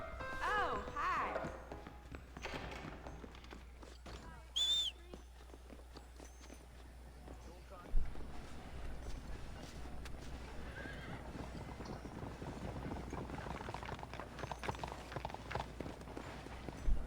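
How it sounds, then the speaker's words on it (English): A horse clip-clops with steady hoofbeats on hard ground and gives a brief whinny, while people talk quietly in the background. "O cavalo se negando"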